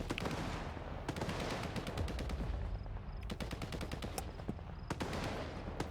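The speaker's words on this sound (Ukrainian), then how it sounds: "Так всі стріляють." Rapid bursts of gunfire crackle throughout in the video game S.T.A.L.K.E.R. 2, dense automatic volleys mixed with single sharp shots over a busy, continuous background din.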